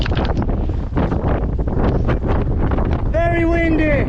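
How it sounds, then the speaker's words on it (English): Strong wind on a mountain ridge at Elidir Fawr in North Wales roars and buffets hard against the microphone throughout, loud and gusty, and a voice cuts in briefly near the end. "Very windy."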